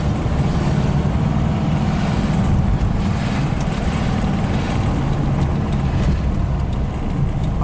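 A Volkswagen Type 3 engine drones steadily while the car drives along a racetrack, a constant low rumble with road noise throughout and no talk.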